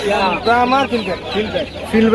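Chickens cluck and call at a busy outdoor bird market at Hemayetpur, Savar, with people talking over them, close and fairly loud.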